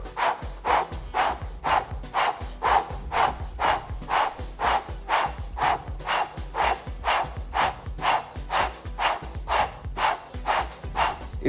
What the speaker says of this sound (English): Powerful breathing through the mouth, the O-shaped mouth.